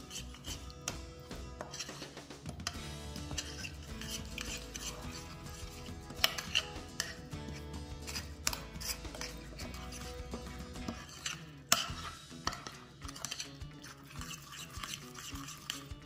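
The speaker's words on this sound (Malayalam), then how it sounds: "ഇനി നമുക്കിതെല്ലാം കൂടെ നന്നായിട്ടൊന്ന് മിക്സ് ചെയ്തെടുക്കാം" A yogurt and olive oil marinade for roast chicken is stirred in a bowl, a continuous close scraping and clinking of utensil against the dish with a few louder knocks, and no talking.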